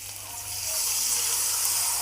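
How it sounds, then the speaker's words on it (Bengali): Water poured into a cooking pot for a Bengali shukto, with a short, close gushing splash that builds and then holds steady. "তো জলটা এখন আমি এখানে দিয়ে দিলাম"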